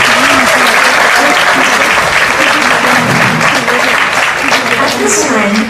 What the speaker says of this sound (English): Can we get another round of applause for Nitya?